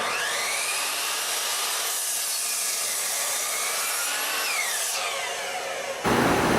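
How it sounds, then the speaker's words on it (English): A saw cutting wood for a DIY shop stool, a loud, steady, high-pitched whine that holds for about six seconds before the tone shifts at the end, with no talk. "I'm going to go ahead and cut one right about 13 inches"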